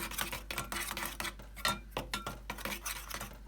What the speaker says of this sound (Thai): ใส่แป้งสาลีค่ะ ใส่ไปสักสองช้อนโต๊ะนะคะ แล้วก็ผสมกันก่อนคนคน